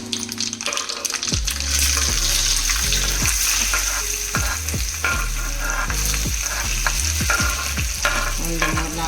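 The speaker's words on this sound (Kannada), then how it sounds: "ಕಾಲು ಸ್ಪೂನ್ ಜೀರಿಗೆ ಅದು ಚಟಪಟ ಅಂತ ಸಿಡಿಯೋಕ್ಕೆ ಶುರುವಾಯಿತು" Cumin seeds splutter and onions fry in hot oil, a continuous loud sizzle broken by rapid crackling pops and frequent scraping strokes of a spoon in the pan.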